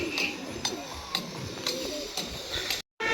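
Pigeons cooing near a net, soft repeated coos and bird calls with a few sharp higher chirps spaced through the stretch, moderately near, ending in a brief silent gap.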